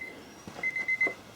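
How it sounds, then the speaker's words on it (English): A few short, faint electronic beeps in quick succession, a soft rhythmic tone pattern over quiet background noise. "Sorry about the beeping."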